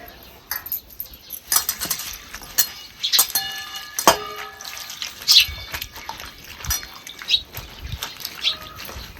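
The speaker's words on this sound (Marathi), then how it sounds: "आता आपण ह्याला चांगले स्वच्छ पाण्याने धुवून घ्यायचे." Safflower greens being washed by hand in clean water, with close splashing and sloshing mixed with light clinks of a metal vessel, in uneven bursts.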